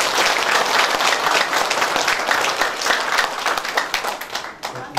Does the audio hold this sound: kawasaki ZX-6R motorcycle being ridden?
no